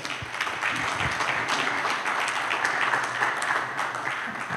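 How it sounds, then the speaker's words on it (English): Audience applause for a panel at an industry event in Columbus, a steady dense roar of many hands clapping throughout, fairly loud and sustained with no talk over it. "please give our panelists a round of applause"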